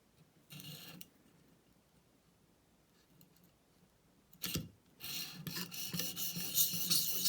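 A Cruwear steel knife scraped on a ViperSharp sharpener in back-and-forth strokes: a short raspy burst, a quiet gap, a brief scrape, then sustained loud grinding rasps close by.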